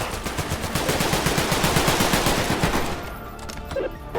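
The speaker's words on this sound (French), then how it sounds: "Contact, ouvrez le feu." Rapid automatic gunfire rattles out in loud, dense bursts during an SCP roleplay video game battle, then tapers off into scattered shots and quieter clatter near the end.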